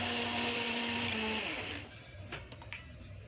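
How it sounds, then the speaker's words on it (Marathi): A mixer grinder grinding chickpeas whirs loudly and steadily for under two seconds, then shuts off, leaving a few faint clicks and rattles. "मिक्सरला बारीक करून घ्यायचं आहे"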